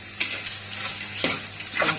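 Rice sizzles and hisses in a hot pot as a utensil scrapes and stirs through it in a few uneven strokes.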